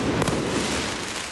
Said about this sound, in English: Protesters shooting fireworks towards riot police,